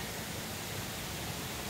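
Blue Hen Falls in autumn, heard from an overlook above the drop: a steady, even wash of falling water, broad and hissing, with no break or change across the moment and no voices.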